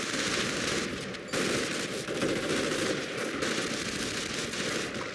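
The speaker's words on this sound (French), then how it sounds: "Tire de suppression." Machine gun suppressive fire in the Company of Heroes video game comes as dense, continuous rattling bursts, loud and close, with a brief gap near the start before the fire resumes and carries on without pause.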